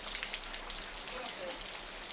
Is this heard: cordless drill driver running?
no